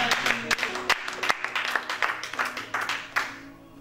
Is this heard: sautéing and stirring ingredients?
no